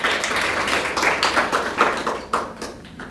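A forum audience at a peace and sustainability gathering claps in a modest, uneven round, individual claps audible and fading toward the end, fairly quiet.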